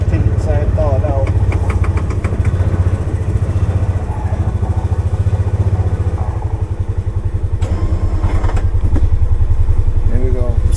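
A Polaris Ranger 570 SP Premium utility vehicle runs while plowing snow, its engine a close, loud, steady throbbing rumble with brief revving changes, and a voice speaks intermittently over it.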